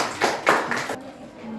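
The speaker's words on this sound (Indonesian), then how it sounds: "Kita beri aplaus." A short round of audience applause, a few loud bursts of clapping for about a second before it stops abruptly, leaving quiet room tone.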